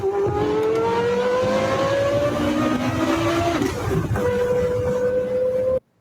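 A Porsche Carrera GT engine revs hard, its high wailing note climbing steadily, dipping briefly through a gear change, then rising again loud and close before cutting off abruptly.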